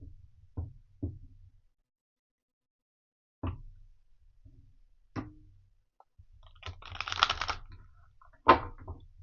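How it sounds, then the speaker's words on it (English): A deck of oracle cards is handled and shuffled in a quiet room, with scattered soft taps and knocks, then a short riffling burst near the end, close and faint. "Let's shuffle these cards."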